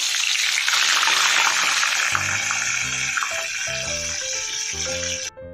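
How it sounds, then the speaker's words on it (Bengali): Fish heads frying in hot mustard oil, a loud continuous crackling sizzle throughout, with soft tonal clinks of utensils joining partway through. "এবারে এতে তেল গরম হলে আমি দিয়ে দেবো মাছের মাথাগুলো, ভেজে নেব।"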